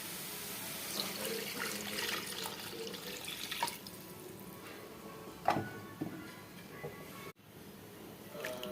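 Water splashes and trickles as a mixer jar is rinsed and emptied into a simmering fish and mango curry, a steady running wash with a few sharper splashes and clinks, no speech.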